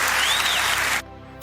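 A burst of loud crowd applause plays for about a second, then cuts off abruptly to near quiet.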